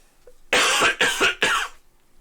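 Three sharp, close coughs in quick succession, each a short harsh burst, with near silence before and after.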